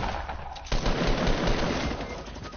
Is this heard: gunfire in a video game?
yes